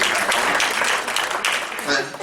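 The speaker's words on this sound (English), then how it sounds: "One more round of applause." Audience clapping at a junior national elite awards banquet, a short burst of dense applause from a large room.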